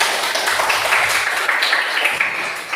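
Indoor classroom audience clapping steadily as a group presentation is about to begin, a dense, continuous patter of many hands at moderate loudness throughout.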